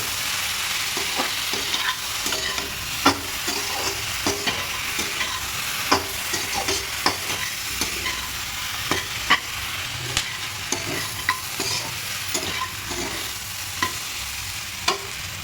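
Vegetables sauté in butter with oregano and salt in a pan, a steady close sizzle broken by repeated sharp scrapes and taps of a utensil stirring them.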